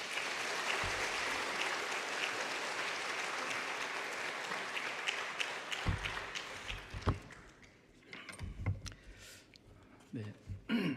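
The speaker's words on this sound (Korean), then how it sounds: "우리 다 함께 박수로 환영하겠습니다" A church congregation at a Sunday afternoon service applauds to welcome a missionary, with sustained, dense clapping filling the room for several seconds before it thins into scattered claps, shuffling and a few murmurs.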